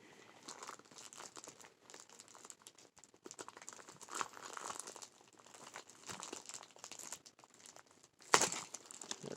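Plastic and paper packaging of a Plarail Hiro TS-07 toy train is unwrapped close by, with steady crinkling and rustling in irregular bursts and one sharp louder tear near the end.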